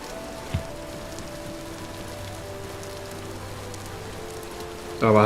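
Steady rain patters in the Vintage Story game world, an even hiss of drops on surfaces, with a faint low hum and a louder burst at the very end.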